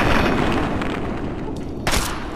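Gunfire in Fallout 3, a loud burst of shots with a deep boom at the start, then a quieter lull and one more sharp crack near the end, with no talk in between.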